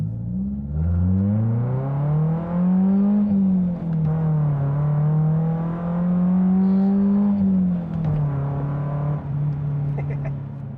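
A 1998 BMW Z3 roadster with a hardtop is driven hard through corners, its engine droning loudly from inside the cabin and the pitch rising and falling as the car accelerates and lifts between bends.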